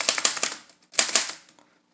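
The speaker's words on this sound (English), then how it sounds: "Hey guys, I got a typewriter." A typewriter being typed on in two short bursts of rapid key strikes and clacks, close and loud, separated by a brief pause, with no voices.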